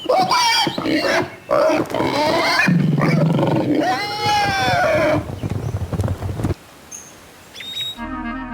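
A tiger roaring loudly and close by in a series of long, rough, rising and falling roars and growls that fill most of the stretch before trailing off.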